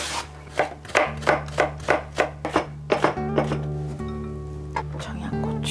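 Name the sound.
carrot being cut with a julienne slicer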